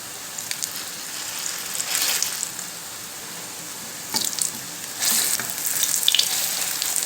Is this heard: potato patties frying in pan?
yes